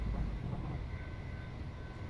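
A Class 185 diesel multiple unit in Train Simulator 2022 runs at speed between Liverpool and Manchester, giving a steady low rumble and rail roar that continues evenly with no talk.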